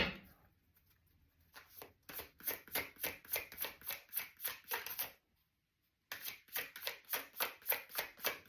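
Tarot cards being shuffled by hand in a quiet room: quick rhythmic bursts of crisp riffling and slapping, a short pause of near silence, then another run of regular shuffles.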